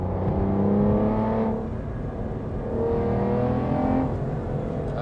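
A 2008 Aston Martin DBS with a manual gearbox and V12 engine revs through heel-and-toe downshifts, heard from inside the cabin: a sustained engine roar whose pitch climbs and falls with each blip of the throttle.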